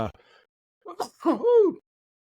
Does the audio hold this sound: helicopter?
no